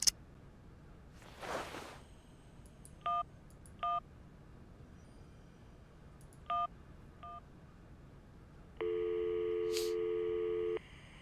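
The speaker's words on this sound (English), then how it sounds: "Let's see if we can make a phone call." Someone dials a phone in the video game Syberia: a handful of short, evenly spaced keypad tones sound after a brief rustle, then a longer steady electronic tone sounds near the end, with no talk.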